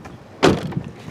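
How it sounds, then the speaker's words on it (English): The door of a 1999-2004 Jeep Grand Cherokee shuts with a single solid thud, close by and fairly loud, followed by a quiet rattle. "I'm going to close the door"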